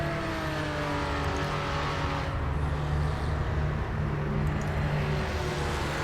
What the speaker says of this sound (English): we still hear the sound of that engine and the cars going past.